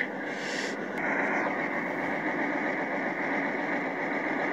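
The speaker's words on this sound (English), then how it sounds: "Thought I'd get a little shot of the drum spinning" The drum of a wood chipper spins with a steady mechanical whir and hum, a constant droning tone that holds evenly throughout at moderate loudness.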